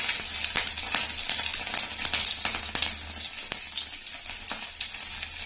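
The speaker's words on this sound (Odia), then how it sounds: "ତେଲ ତ ତାତି ଆସିଲାଣି, ଆମର ଶୁଖିଲା ଲଙ୍କା ଗୋଟେ ଆଉ ଫୁଟଣ ଟିକେ ଦେଇଦବା।" Dried red chili and tempering spices hit hot oil for baigana bharta, giving a soft, continuous sizzle dotted with sharp little crackles and pops, close by and fairly quiet.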